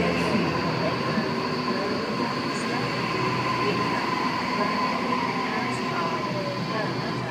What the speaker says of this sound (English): have a Richmond service now arriving